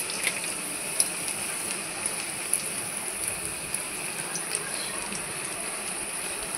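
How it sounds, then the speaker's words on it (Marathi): Bread patties frying in hot oil, a steady close sizzle with fine crackling pops that runs evenly throughout, with no talking over it. "त्यांना तेलामध्ये फ्राय करून घ्यायचे."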